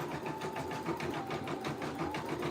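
An embroidery machine stitches gray thread onto a white shirt with no stabilizer underneath, giving a steady, fast mechanical rattle of rapid needle strokes that continues evenly throughout.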